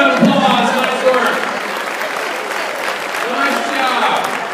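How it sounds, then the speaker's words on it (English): A corporate training group claps for itself in a room, with voices talking and cheering over the fairly close applause. "Give yourselves a round of applause."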